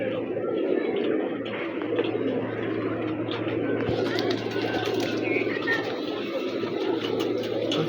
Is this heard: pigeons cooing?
yes